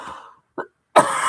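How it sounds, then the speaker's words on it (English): A single short cough-like burst after a moment of quiet, followed by a loud, breathy rush of noise close to the mic. "I hate it when I cough on camera."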